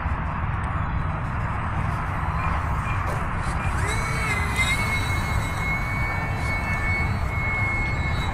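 An E-flite UMX Timber X RC airplane flies touch and goes, its small electric motor a steady whine with rising pitch sweeps over constant outdoor wind noise, fairly near and continuous throughout.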